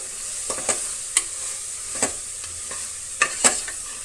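Chili powder, garam masala and biryani masala frying with onion and tomato for paneer biryani, a bright continuous sizzle broken by repeated sharp scrapes and taps of a spoon stirring the pan, close and fairly loud.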